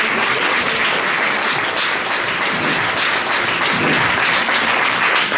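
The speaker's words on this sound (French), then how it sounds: "Vos applaudissements." Audience applause at a Rotary Club high school student award ceremony in Saint-Pierre, a dense, steady burst of many hands clapping at full volume throughout with no break.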